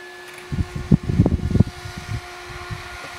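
A Mean Well SE-450-24 power supply's cooling fan whirs loudly and steadily inside its case with a constant tonal hum, joined by a stretch of low rumbling and knocking bursts in the middle.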